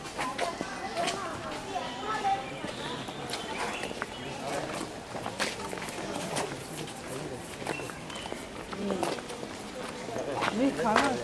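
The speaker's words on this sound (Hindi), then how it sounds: "This is a Marwadi horse." Hooves of a Marwari horse clip-clop on the ground in Matheran, a steady run of close hoof strikes heard beneath continuous talking and some background chatter.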